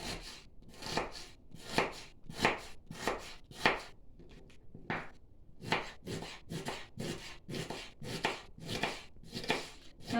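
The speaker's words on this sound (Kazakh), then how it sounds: "Енді біз жуамызды бөліп алып, кубиктеп тураймыз майдалап." A knife finely dices onion on a board, making a quick run of sharp, evenly spaced chops close by, with a short pause partway before the chopping resumes at a steady rhythm.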